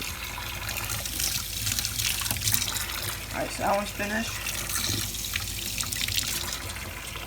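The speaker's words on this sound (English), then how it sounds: "we're gonna dip them in some water." Tap water runs steadily into a sink while strawberries are rinsed for cooking, a continuous trickling wash heard close up with a person speaking briefly over it.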